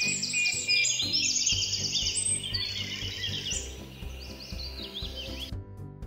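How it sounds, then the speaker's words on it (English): Birds chirp and sing in a lively series of high, quick trilling calls over a steady rubbing, rasping background noise, continuous and fairly close, ending suddenly. "Bird."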